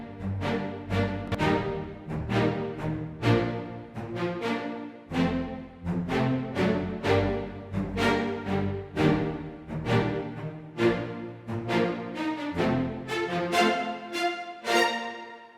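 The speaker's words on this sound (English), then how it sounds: "Areia, which is another cool library from Audio Imperia. It's a dedicated strings library." Orchestral strings from the Audio Imperia Areia library, recorded in a full hall, playing rhythmic detached chords with repeated bowed attacks at a steady pulse, loud and resonant.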